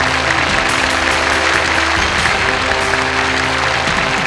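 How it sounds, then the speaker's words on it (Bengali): An audience applauding at a televised stage show in Sylhet, a dense, loud wash of clapping that carries on evenly throughout. "তাদের জন্য করতালি"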